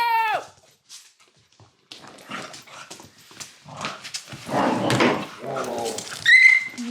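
Puppies scuffle and whimper up close, high-pitched yelps and whines coming in uneven bursts among growls and yips, with people's voices mixed in.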